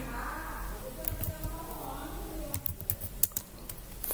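Computer keyboard keys being typed in a quiet room, a run of light clicks and taps in an uneven rhythm, growing busier toward the end.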